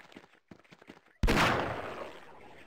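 Single loud gunshot from a weapon in Half-Life 1 running inside Garry's Mod, a sharp crack that decays over a second, preceded by faint speech.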